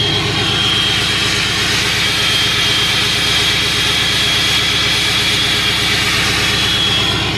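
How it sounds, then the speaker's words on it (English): Cummins diesel truck held at high idle with the exhaust brake engaged, giving a loud, steady, dense engine drone with a piercing high whine running continuously and unbroken throughout. "But I'm gonna show you guys this high idle exhaust brake."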